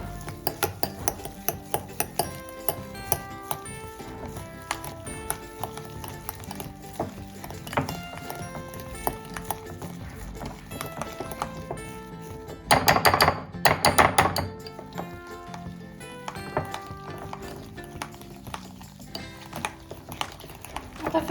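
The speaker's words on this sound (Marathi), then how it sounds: "आता आपण हिला फेटून घ्यायचंय।" Strained cream for shrikhand is whisked in a bowl, producing a steady run of quick scraping taps and light clinks against the bowl, fairly soft and close, with a brief louder clattering flurry midway.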